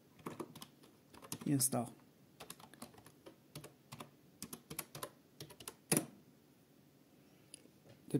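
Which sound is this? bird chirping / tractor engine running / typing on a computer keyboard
typing on a computer keyboard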